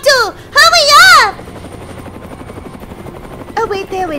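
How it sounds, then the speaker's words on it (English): A helicopter in the Roblox Brookhaven game flies in with a steady rotor chop and engine noise between bursts of people talking. "Where's this helicopter? Hurry up!"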